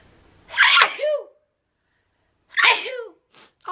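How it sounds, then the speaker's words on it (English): Two sharp human sneezes burst out close to the microphone a couple of seconds apart, each a quick intake then a loud explosive release, followed by a soft breath in an otherwise quiet room. "God, I'm gonna sneeze."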